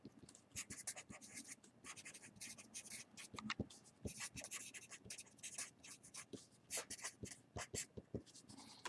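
Pen or marker writing out a kinematic equation, a run of quick close scratchy strokes and taps in irregular bursts, fairly quiet, with no talking.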